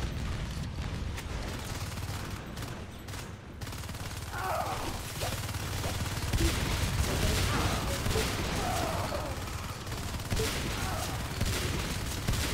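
Gunfire in the sci-fi shooter game Natural Selection 2, a dense continuous barrage of shots aimed at an alien tunnel, layered over steady mechanical game noise.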